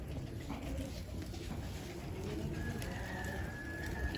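Low, soft pigeon cooing close by against a dense, rumbling background of birds and ambient noise.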